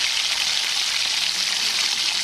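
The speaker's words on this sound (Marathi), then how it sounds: "तेलामध्ये कांदा टाकला त्याला चांगलं प्रकारे परतून घ्यायचं आहे" Three finely chopped onions frying in hot oil in a pressure cooker, a dense, even, close sizzle with a bright crackling hiss that holds steady without pause.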